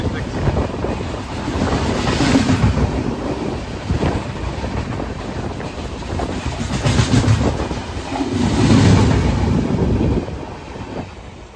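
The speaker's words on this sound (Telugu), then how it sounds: "ఇప్పుడే మన ముందు ఒక ట్రైన్ క్రాస్ అయింది కదా, ఆ ట్రైన్ ఏంటంటే కాచిగూడ మధురై ఎక్స్ప్రెస్ అండి" A Kacheguda–Madurai Express rushes past nearby, its rumbling wheels and wagon clatter swelling and fading over several seconds, with heavy wind buffeting the microphone throughout.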